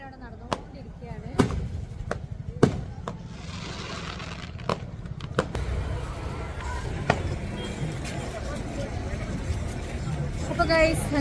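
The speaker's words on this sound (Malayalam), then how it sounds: "വെടിക്കെട്ട് അവിടെ നടന്നുകൊണ്ടിരിക്കുകയാണ്" Fireworks burst at the Kandakurumba Kavu temple pooram festival in Kannur. Scattered sharp bangs crack out every second or so over a continuous crowd hubbub with voices.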